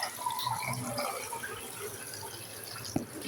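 Plain water is poured into a container for pigeons, a continuous trickling splash with a short knock near the end and no talking.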